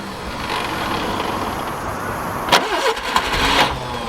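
A Subaru Brumby ute's starter motor cranks the engine in a steady whirring grind, then a couple of sharper catches and stutters as it tries to fire, close and fairly loud with no talk.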